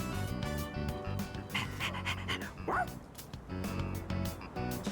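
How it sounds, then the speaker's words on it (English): A stray dog in Persona 3 Reload pants rhythmically and lets out a few short barks and whimpers over background game music, close and moderately loud. "I decided to take the stray dog to the police station."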